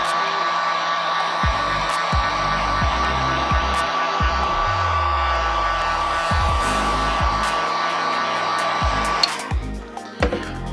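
A hair dryer blows in a steady, close whine while drying clear coat on custom Air Jordan 1 sneakers, with repeated low thumps and bumps underneath, and the airflow cuts off near the end.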